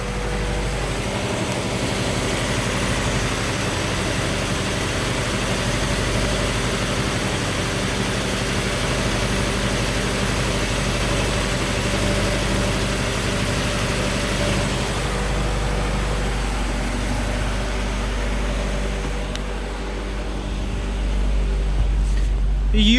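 An Acura Integra with a transmission leak at the CV shaft retainer idles while standing still, a steady low engine hum that continues nearby for over twenty seconds.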